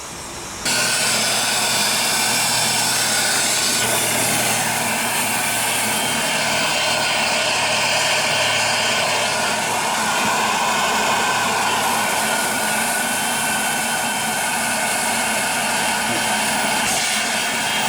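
A five-chime steam train whistle on a small boiler at 100 psi blows one long, deafening blast. The sustained, breathy chord starts suddenly and holds for about seventeen seconds, very loud and close.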